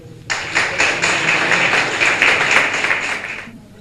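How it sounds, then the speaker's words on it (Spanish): Sustained applause from an indoor audience greeting a flamenco singer and guitarist at a cultural event, dense clapping starting abruptly, holding steady at full strength for about three seconds, then cutting off. "vamos a recibirlo a los dos con un fortísimo aplauso"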